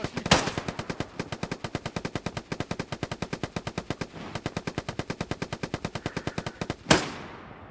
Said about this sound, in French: C'est le véhicule qui tire là.